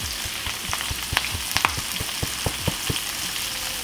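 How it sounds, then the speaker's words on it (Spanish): Potatoes sautéing with onion in a hot pan, a steady close sizzle broken by scattered pops and scraping stirs. "Vamos a sofreírlas con la cebolla"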